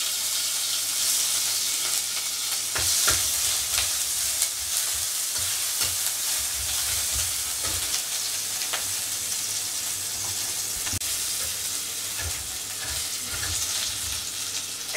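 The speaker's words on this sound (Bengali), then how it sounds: "এক মিনিটের মতো এটাকে ভেজে" Whole cumin, dried red chilies and ginger paste sizzle in hot oil, a dense continuous frying hiss broken by scraping stirs and clinks of the spatula throughout, with no voices.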